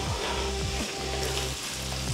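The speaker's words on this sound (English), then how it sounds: "We want the mustard seeds to get a bit of sizzle." Mustard seeds sizzle steadily in hot oil, a dense crackling hiss with occasional faint pops, close and continuous throughout.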